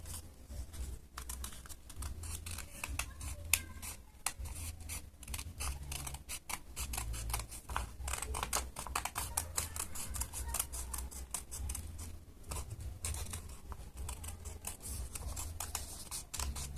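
Scissors snip steadily through a paper mask, close and quiet, with a rapid run of small crisp cuts and brief pauses throughout.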